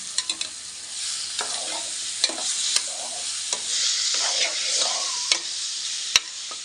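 Thawed chicken sizzles in a pan for curry while a spoon stirs it, a steady close frying hiss broken by several sharp clinks and scrapes against the pan.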